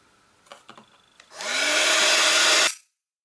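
A hair dryer blows a steady, loud whoosh over a watercolor ink greeting card for about a second and a half, then cuts off abruptly, after a few light clicks and handling knocks.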